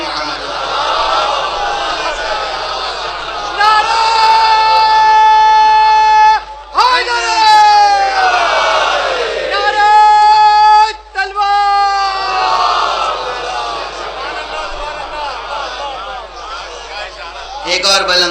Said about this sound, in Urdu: صلوات پڑھ دیجیے محمد۔